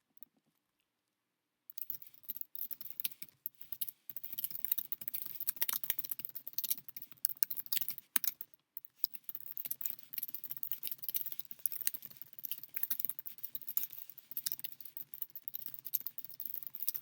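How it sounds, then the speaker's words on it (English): Rapid typing on a computer keyboard during a Nitro Type race, a dense run of close, light key clicks that continues almost without pause after a short silence. A brief gap falls midway, and no one speaks. "And I was typing super slow compared to my average."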